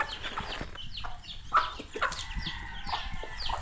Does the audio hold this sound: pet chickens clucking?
yes